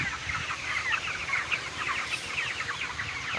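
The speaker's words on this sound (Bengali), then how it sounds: "আর এর আগে মুরগিগুলোকে যেভাবে ভিজিয়ে দিয়েছি ওই মুরগিগুলো কিভাবে আরামসে আছে দেখেন মুরগির কন্ডিশন" Broiler chickens on a farm cluck and chatter continuously during hot weather, many birds calling at once in a busy, close, overlapping flock sound with no voices.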